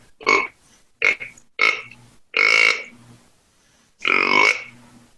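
A person imitates a whitetail deer's guttural roar call with a series of short, raspy grunts, then two longer drawn-out growls, close up with pauses between.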